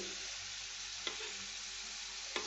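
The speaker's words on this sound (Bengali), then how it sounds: "আমি একটু কম তেলেই ভাজছি ঘুরিয়ে ফিরিয়ে" Flattened rice (chire) frying in a small amount of oil while being stirred and turned gives a steady close sizzle, with two sharp spatula clinks against the pan.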